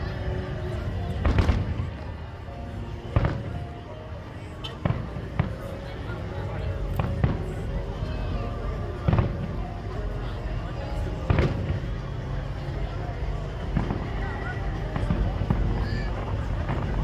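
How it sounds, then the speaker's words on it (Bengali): Fireworks at the Global Village fair in Dubai, outdoors: sharp bangs crackle out at irregular intervals over a busy, noisy crowd background with voices throughout. "হঠাৎ করে দেখলাম যে এখানে ফায়ার ওয়ার্ক শুরু হয়ে গেছে"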